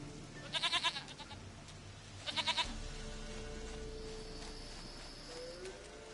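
A goat from The Witcher 3 Wild Hunt bleats twice in quick, wavering bursts, fairly close and clear over soft game ambience and music.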